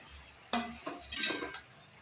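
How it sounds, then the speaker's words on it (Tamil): Drumstick and vegetables being stirred in a pan for a gravy, with a few brief metal clinks and scrapes of a spoon against the pan, close but quiet, with no talking. "இப்போ இந்த காயும் சேர்த்து போட்டு வதக்க போகிறேன்"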